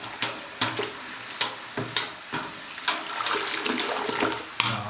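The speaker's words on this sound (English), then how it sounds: "Time to add our brewing sugar. Let me stir this well." Brewing sugar is stirred into boiling home-brew wort near the end of the boil, with soft, fairly quiet liquid swishes and splashes recurring in an irregular rhythm over a low bubbling background.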